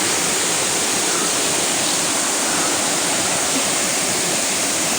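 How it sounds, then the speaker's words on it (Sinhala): Nalagana waterfall in Sri Lanka, a dense, steady roar of falling water filling the whole stretch, close and loud with no other sounds. "යාළුවනේ මේ තමයි අපි බලන්න ආපු පළවෙනි ඇල්ල"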